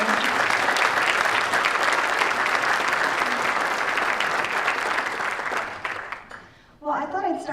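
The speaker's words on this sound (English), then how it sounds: "can we just give them a round of applause" A large audience applauds at a Fostering Together event, dense sustained clapping that holds loud and even before breaking off, after which a voice briefly starts speaking.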